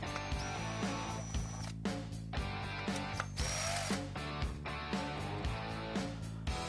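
Screws on a golf cart turn signal assembly being adjusted during a light kit install, giving repeated short ratcheting clicks in a steady rhythm, close and clear with no talking.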